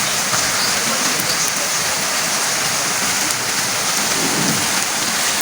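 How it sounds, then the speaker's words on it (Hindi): Heavy monsoon rain pours steadily outdoors, a dense, loud, unbroken hiss of water on surfaces with no voices over it. "बाहर जाके देखें तो बहुत ज़्यादा जो है बारिश हो रही है"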